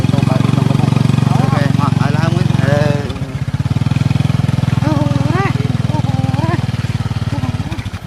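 A scooter engine runs steadily while a man rides with monkeys perched on it, a continuous low motor drone heard up close, with people talking over it throughout.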